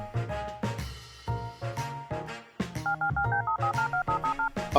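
A toy spy phone from a McDonald's Happy Meal James Bond 007 set plays a quick series of beeping dialing tones, a loud evenly paced run of electronic beeps over a musical backing.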